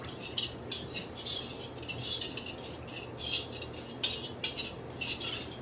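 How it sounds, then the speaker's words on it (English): A utensil stirs an Asian chicken wing marinade in a bowl, giving repeated scraping and clinking strokes in an uneven rhythm, close and fairly loud, with no talking. "we mix it around. Just get it stirred up"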